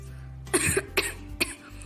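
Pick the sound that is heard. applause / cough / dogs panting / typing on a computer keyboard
cough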